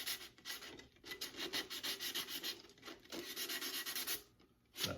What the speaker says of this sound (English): I'm going to sand the outside of this one.